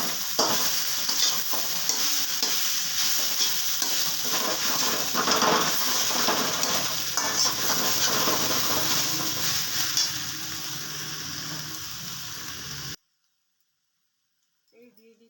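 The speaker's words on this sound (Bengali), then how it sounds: "দিয়ে দিচ্ছি 2টো তেজপাতা।" Two bay leaves added to a nearly finished dish in a cooking pot set off a steady, close frying sizzle that runs loud for several seconds and then cuts off abruptly, with a few faint sounds after the silence.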